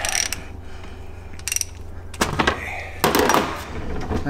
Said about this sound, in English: take our 3/8 inch drive ratchet and remove the drain bolt from the very bottom of the front axle